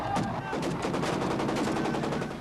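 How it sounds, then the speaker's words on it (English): Gunfire at a funeral in Baghdad: a dense, continuous crackle of rapid shots and bursts, steady and loud throughout with no voices. "The reason for the gunfire in Baghdad today, not an air raid, but a funeral."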